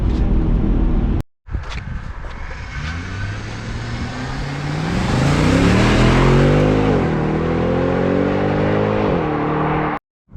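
A loud naturally aspirated 6.3L V8 engine of a Mercedes ML63 AMG revs hard and climbs to a high-pitched scream, holds near the top, then drops away as the revs fall, with brief silent gaps at both ends.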